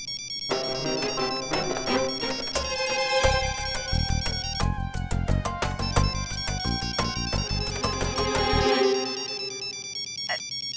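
A phone ringtone plays a bright electronic melody repeatedly for several seconds, loud and close, then cuts off.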